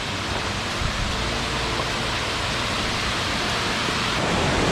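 Steady, loud roar of the upper falls on the Four Waterfalls Walk in the Brecon Beacons, a dense unbroken rush of falling water heard up close from the viewpoint, constant throughout with no voices.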